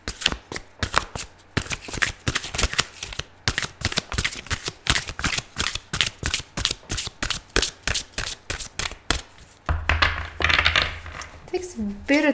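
Archangel Power tarot cards are shuffled in a long series of rapid, crisp riffles and soft slaps, evenly paced and close, with a voice speaking briefly near the end.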